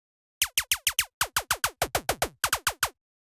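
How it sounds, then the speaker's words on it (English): Synth zaps built from a saw wave with a very short amplitude envelope driving a pitch envelope in Operator, for Romanian minimal house: a rapid run of about sixteen punchy downward-sweeping blips in tight groups, loud and close, with no voices. "it's just a saw wave with a really short envelope on it going into a pitch envelope"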